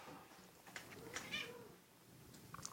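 A cat meows faintly in the background, a few thin drawn-out cries rising above a quiet room hiss.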